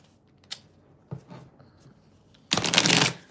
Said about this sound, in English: Let me just shuffle these decks